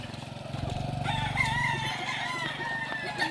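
Chickens clucking with a rooster crowing on a farm in the Philippines, steady fowl calls throughout, fairly close, with a loud crow rising around the middle.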